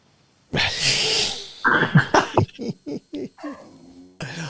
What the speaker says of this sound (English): Oh, my dog's played up now.